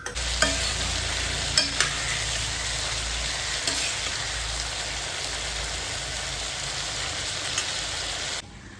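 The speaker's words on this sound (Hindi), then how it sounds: "उसके बाद मैं बनाती हूँ छोले" Chole, a chickpea curry, sizzles and fries in a pan with a steady hiss, broken by a few sharp scrapes of stirring, before cutting off near the end.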